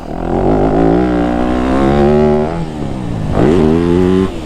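A 2025 Yamaha YZ250F dirt bike engine drones steadily while being ridden, its tone climbing and dipping as the throttle shifts, loud and close with no voices.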